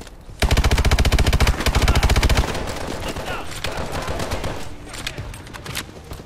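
Rapid automatic fire from a KF5 gun in Call of Duty: Advanced Warfare, a loud sustained burst of closely spaced shots followed by scattered shooting and game noise.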